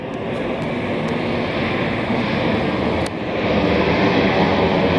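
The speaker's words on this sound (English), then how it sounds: "Here comes big plane, big plane!" A large airplane passes overhead on a Montreal street, its broad steady jet roar loud and continuous throughout, with no talking.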